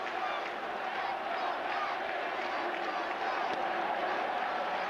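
Yankee fans in a big-league ballpark crowd during a Yankees–Mets game, a steady, dense roar of chanting and crowd noise that holds level throughout without a break.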